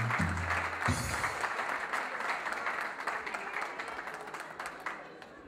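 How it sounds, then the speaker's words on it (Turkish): An audience at an Aegean community culture and solidarity night in the Netherlands applauds steadily for several seconds. The dense clapping fades slightly toward the end, and a brief low voice sounds at the start. "Bir alkışlar mıyız Ekrem abimi?"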